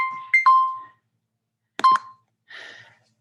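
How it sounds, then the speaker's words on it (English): A kitchen-style timer goes off during a home boxing HIIT workout, giving two short bursts of clear electronic beeps followed by a softer chirp, loud and close in an otherwise quiet room. "That's my timer."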